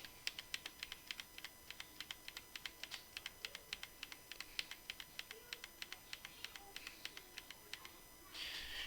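Steady typing on a computer keyboard: dozens of crisp, quiet key clicks come at an even, brisk rhythm, close but soft, with no talking.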